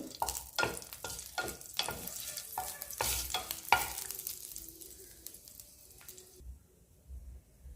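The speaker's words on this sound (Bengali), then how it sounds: "তো শুকনো মরিচটাকে একটু ভেজে নেব কালার আসা পর্যন্ত" Dried red chillies fry in hot oil with stirring, giving crackling sizzle and scraping strokes that grow quieter and thin out to near silence toward the end.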